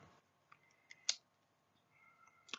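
Leatherman Raptor shears being handled in a quiet room, a few sparse sharp metallic clicks with a brighter snap near the middle and another at the end, close and isolated.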